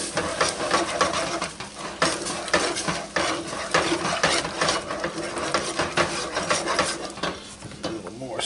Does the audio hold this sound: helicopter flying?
no